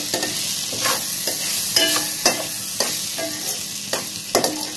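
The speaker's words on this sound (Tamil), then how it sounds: "நல்லா வெண்டைக்காய் ஃப்ரை ஆயிடுச்சு" Okra (ladies finger) frying in a pan, a steady sizzle broken by repeated scrapes of a spatula stirring, close and even, with no talking.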